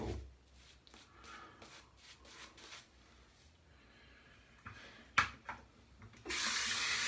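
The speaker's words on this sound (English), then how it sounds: "rinse my hands" Hands being rinsed under a running tap during a shave: quiet splashing and trickling at first, a few sharp knocks, then a loud steady gush of water in the last second.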